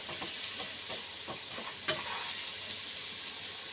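Onions for a lamb curry fry in a pan, a steady broadband sizzle with soft rhythmic stirring scrapes and one sharper clink near the middle, close and continuous, no voices.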